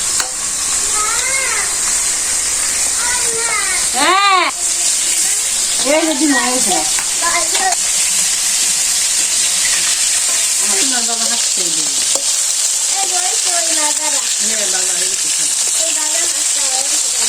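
Puti fish frying in a pan, a continuous loud sizzle with stirring scrapes, while voices talk intermittently over the cooking.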